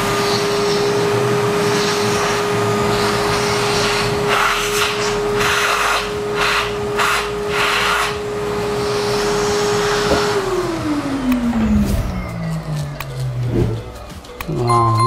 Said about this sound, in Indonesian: Kalau bisa kalian pakai vacuum cleaner ya untuk membersihkannya